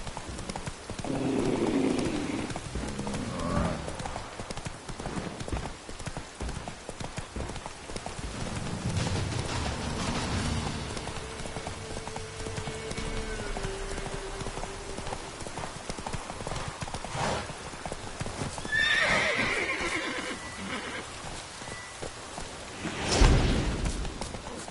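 Roach, the horse in The Witcher 3, gallops with a rapid, continuous drumming of hooves that runs under occasional speech, with a brief whinny near the end.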